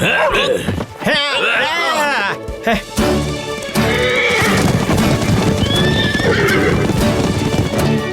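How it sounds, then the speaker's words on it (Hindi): Horses in an animated Christmas special neigh loudly and whinny, then their hooves clip-clop at a quick, hurried pace, mixed with excited voices and a busy scene. "वो लोग हमारे घोड़े ले जा रहे हैं।"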